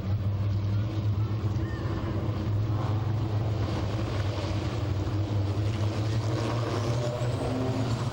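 Race cars at Skagit Speedway pulling away at the start of a race, a steady loud engine roar with a strong low drone that runs unbroken throughout, heard at a distance with wind buffeting the microphone.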